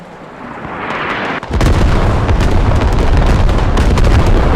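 A loud artillery barrage in a large-scale 50-versus-50 online shooter match: after a quieter lead-in, heavy booming explosions hit in close succession and keep rumbling and crackling densely to the end.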